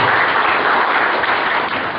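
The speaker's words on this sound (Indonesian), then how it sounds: "Boleh tepuk tangan, boleh tepuk tangan." An audience breaks into sustained applause at a travel agency trainer's seminar, a dense, steady wash of clapping that fills the room without pause.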